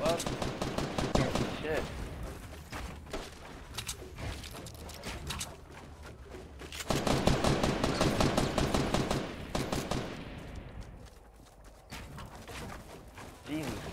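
Rapid bursts of gunfire from the video game Fortnite, dense volleys alternating with short pauses, loud and close, with a man's brief exclamation over it.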